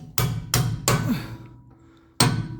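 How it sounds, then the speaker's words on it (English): A hammer taps a punch to drive shock bolts in from the rear on a 1985 Mercedes 300SD, four sharp metallic strikes, close and loud, three in quick succession then one more after a short pause. "let's tap those in from the rear"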